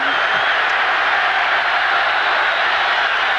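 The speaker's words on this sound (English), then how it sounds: "Listen to that crowd" A steady, dense roar from a football stadium crowd at a 1983 Raiders at Cowboys game, holding loud and unbroken throughout with no distinct cheers standing out.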